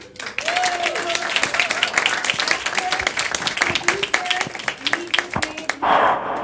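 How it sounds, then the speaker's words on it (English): An audience applauds an actor and producer being welcomed on stage at an actors' talk event, with dense steady clapping throughout and a voice faintly speaking over it near the end. "a big round of applause to Mauricio Ochmann"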